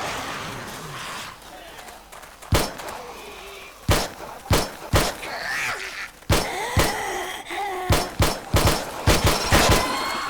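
Pistol shots in 7 Days To Die: a series of sharp, loud reports, single and in quick pairs and bursts, spaced irregularly over a low background with faint groans between them.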